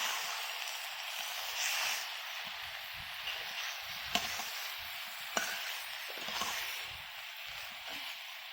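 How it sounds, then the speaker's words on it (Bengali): Food sizzling steadily in a pan on a gas stove while being stirred, a continuous fry hiss with occasional sharp scrapes and knocks of the spoon against the pan, no talking. "একটু নাড়াচাড়া করে নিই ভালো করে।"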